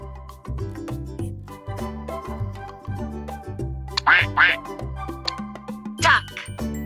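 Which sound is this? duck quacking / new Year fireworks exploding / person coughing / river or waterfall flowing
duck quacking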